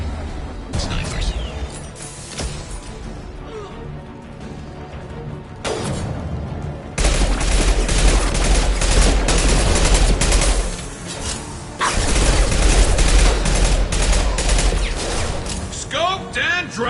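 Sniper fire and combat gunfire from Mass Effect 2 Legendary Edition on PS4, heard as dense, loud bursts of shots that stop and start, with voices mixed in at times.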